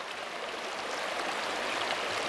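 A river flows in a continuous, fairly loud broadband rush, with no voices over the water, heard from the edge of a trout stream.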